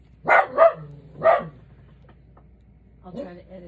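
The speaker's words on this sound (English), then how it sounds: "The dogs are going to go berserk." Dogs barking at a tow truck, three loud close barks in quick succession, then a pause and a softer bark or whine.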